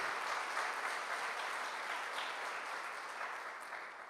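Church congregation applauding during a sermon, a dense continuous wash of clapping from many hands, steady and moderately distant, with no distinct individual claps standing out.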